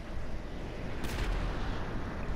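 A jet firing rockets in a GTA game gives a low rumbling blast with a brief sharp burst of noise in the middle, heavy and muffled under a continuous low roar, with a small pop at the end.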